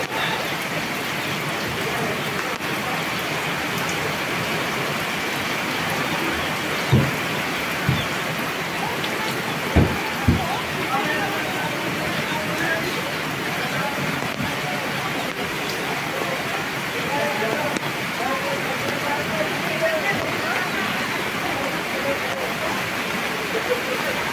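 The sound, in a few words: heavy rain from Typhoon Goring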